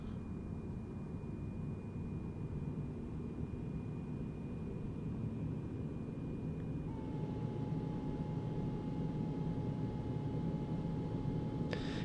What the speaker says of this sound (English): The electric whine you hear now is so bloody annoying